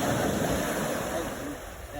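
Sea waves wash and surge at a beach with a constant rushing roar and wind noise, close and fairly loud for a couple of seconds.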